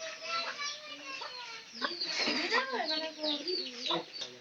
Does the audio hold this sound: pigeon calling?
yes